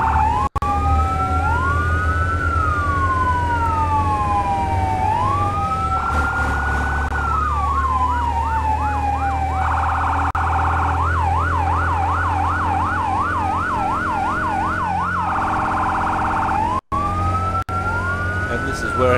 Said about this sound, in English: It's also important that if you're that close to the engine, that you're on a different siren pattern than what the engine's on.